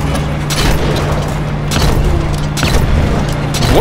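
A grenade launcher fired in the video game Uncharted 2 gives loud, booming blasts over a sustained rumbling combat din, with a few heavier thumps standing out.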